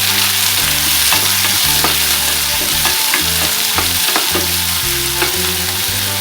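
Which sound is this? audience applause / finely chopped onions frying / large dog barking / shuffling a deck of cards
finely chopped onions frying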